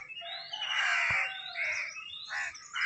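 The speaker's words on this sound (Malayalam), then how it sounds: "മയിലിൻ്റെ ഒച്ചയൊക്കെ കേൾക്കുന്നുണ്ട് കേട്ടോ" Loud, nasal peacock calls ring out several times in quick succession, wailing and rising in pitch, with a single dull knock partway through.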